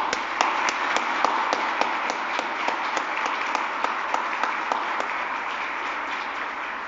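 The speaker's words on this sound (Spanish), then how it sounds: "Un aplauso a doña Emilia" Sustained applause from a crowd honoring Doña Emilia at a Lenten church gathering, steady dense clapping with a few sharper claps standing out, lasting throughout without speech.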